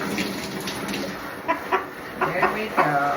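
Chickens being washed for poultry show preparation cluck in several short bursts over steady running water, close and moderately loud, with a voice speaking briefly alongside.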